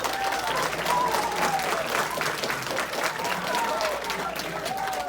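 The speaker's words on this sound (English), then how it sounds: "Can we please give Broward College a huge round of applause?" Applause from a crowd at a school career day runs steadily throughout, a thick continuous clatter of hands with faint voices mixed underneath.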